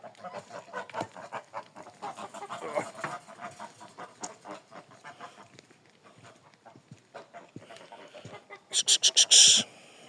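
A flock of geese and other poultry cluck and honk continuously as they are moved along, ending with a few loud, close honks.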